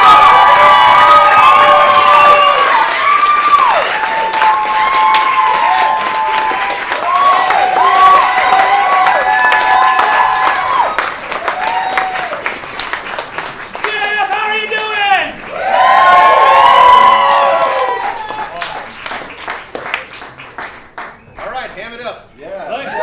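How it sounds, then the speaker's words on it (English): Audience at the 2014 Denver Improv Festival claps, cheers and whoops for an improv troupe, loud and close, with excited shouting rising and falling over an extended stretch. "let's give a big round of applause to Governor Jack"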